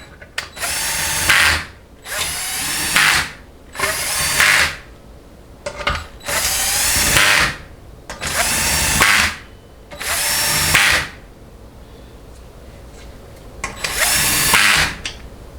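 A low-power 3/8-inch impact wrench is used during a 6L80 transmission pump assembly, giving about seven loud close bursts of rattling hammering, each lasting one to two seconds and separated by short pauses.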